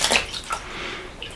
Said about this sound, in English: we can squish the water out of it